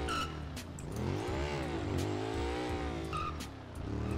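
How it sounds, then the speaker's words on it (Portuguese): A car drifting in GTA RP, engine revving hard with rising and falling pitch while the tires squeal continuously, close and loud, with no voices over it. "Fazendo drift só."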